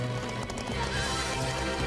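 Cartoon horses galloping, heard as quick clip-clop hoofbeats with a whinny, set under a busy musical score with no talking.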